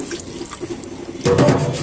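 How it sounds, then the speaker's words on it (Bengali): Water poured from a small bowl onto marinated beef in a pot, a sudden near splash and trickle after a quiet kitchen background. "এই পানিটাই আমি দিয়ে নিব"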